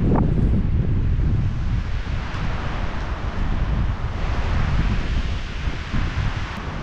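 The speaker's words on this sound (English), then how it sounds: "It's pretty windy up here today." Strong wind buffets and roars across the microphone on a hilltop fence line by thick brush, loud and constant with gusty rumbling throughout.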